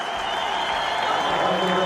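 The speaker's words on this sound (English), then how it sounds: "Fantastic cheers from the crowd. Lovely to hear." Crowd cheering and applauding at a four-in-hand horse driving championship cones event, a steady dense wash of clapping and cheers filling the whole moment without a break.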